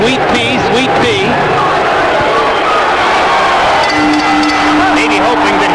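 Boxing crowd at a Pernell Whitaker vs Gary Jacobs bout late in the fight, a dense, steady roar of many voices with rhythmic chanting of a fighter's nickname running throughout, loud and continuous.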